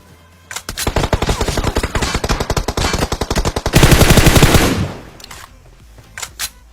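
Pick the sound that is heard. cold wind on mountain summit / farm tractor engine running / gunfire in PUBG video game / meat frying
gunfire in PUBG video game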